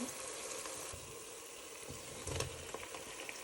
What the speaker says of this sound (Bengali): এখানে আমি কুচি করে রাখা টমেটো দিয়ে দিচ্ছি।